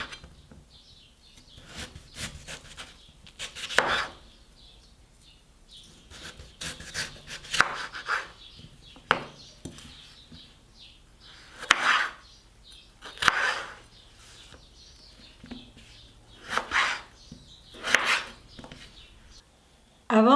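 A knife slices through potatoes on a cutting board for homemade fries, irregular close thuds and scraping cuts spaced out over a quiet background.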